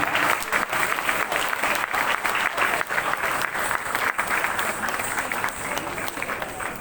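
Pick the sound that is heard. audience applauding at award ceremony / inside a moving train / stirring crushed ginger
audience applauding at award ceremony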